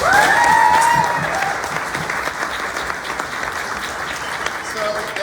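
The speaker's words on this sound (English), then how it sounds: "So if you guys will, give Turning Point a big round of applause." Audience at an outdoor recovery walk event bursts into loud applause that gradually thins to scattered clapping, with a few voices and a whistle heard over the crowd.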